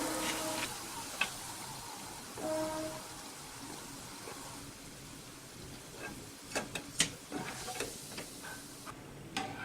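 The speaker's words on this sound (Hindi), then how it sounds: "इसी तरह हम और भी फ्राई करके बना लेंगे।" Rice murukku frying in oil over a low flame gives a faint, steady sizzle with light ticking and a few sharp clicks and clinks near the end.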